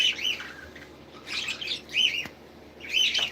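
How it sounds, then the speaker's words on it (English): Rainbow baby budgies in a garden give bright, rapid chirps and tweets in three or four short bursts, with light wing flutters between calls, close by and with no talking. "Here is my one rainbow baby budgie"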